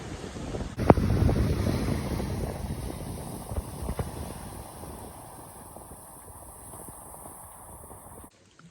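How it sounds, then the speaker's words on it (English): Wind gusting across a South Wales beach during a storm while sea fishing, rumbling and buffeting against the microphone with surf beneath, strongest early and slowly easing toward the end. "The rain's coming down and the wind is howling across."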